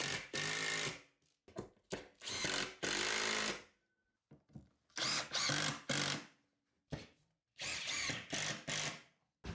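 A power drill driving screws into a wooden batten in a workshop, several loud whirring bursts of about a second each separated by short pauses, close up with no talk.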